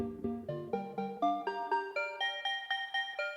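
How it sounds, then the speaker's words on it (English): A famous bell sample from a 1992 CD: a clean sequence of about fourteen bright, ringing bell tones in a steady rhythm, stepping upward in pitch, alone and fairly quiet. "So those bells have become very famous through that record"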